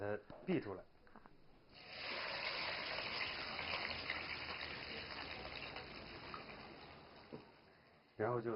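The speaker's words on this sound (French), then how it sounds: "Ensuite, on filtre à l'aide d'une passoire." Liquid cooking mixture poured through a kitchen sieve, a steady close pouring and trickling wash lasting several seconds, with brief speech at the start and end.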